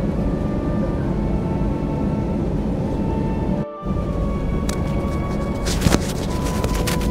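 A Peach airliner taxis from Terminal 2 toward the runway, turning forward without a pushback; a steady low engine rumble fills the cabin, with a brief dip midway and some higher whine and rattles near the end.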